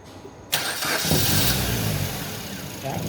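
A car engine cranks and catches, then settles into a steady running idle close by, with a slight rev near the end.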